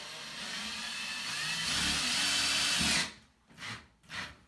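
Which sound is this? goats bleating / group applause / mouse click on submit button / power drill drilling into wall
power drill drilling into wall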